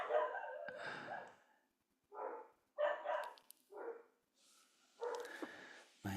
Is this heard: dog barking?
yes